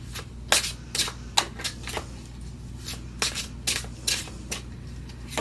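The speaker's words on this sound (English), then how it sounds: "3 cards, clarifying cards for Leo." Tarot cards being shuffled by hand up close, a series of brisk papery riffles and slaps in uneven bursts against a quiet background, with no voices.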